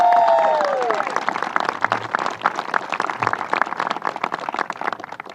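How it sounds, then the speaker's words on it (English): An audience at a governor's event on a red flag bill applauds after a speaker's brief voice fades. The clapping is dense at first and thins toward the end, with a little cheering mixed in. "Let's give her another round of applause"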